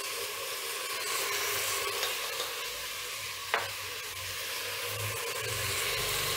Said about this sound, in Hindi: और इसको थोड़ा सा फ्राई कर लूँगी मसालों को कच्चापन जाने तक।